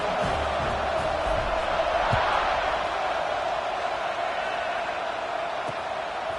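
Football stadium crowd at a Stanford college game, a steady broad roar of cheering and chatter that holds at an even level throughout, with no single voice standing out.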